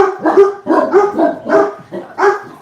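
Several dogs on a farm bark in repeated bursts, close and loud, with brief gaps between volleys and no talk over them.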